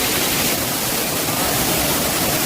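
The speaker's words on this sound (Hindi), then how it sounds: "इतना खूबसूरत वाटरफॉल है, इतना खूबसूरत झरना है" Waterfall in Bongaigaon district, Assam, during the monsoon, a steady loud broadband roar of falling water filling the whole clip without pause.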